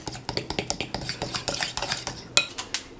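A fork beating funnel cake batter with eggs in a bowl gives quick rhythmic clinks and taps, about four to five per second, close up and with no talking.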